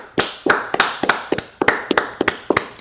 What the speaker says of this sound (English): We didn't even plan to clap at the same time, and we just did it